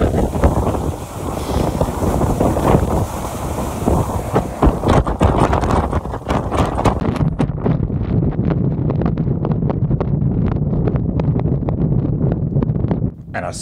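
Strong wind roars and buffets the microphone on a mountain climb, loud and constant through the whole stretch with a rumbling low end.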